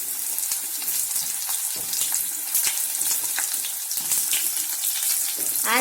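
Potatoes and green banana frying in hot oil for a Bengali shukto, a steady close sizzle with crackling bursts and occasional stirring clatter throughout.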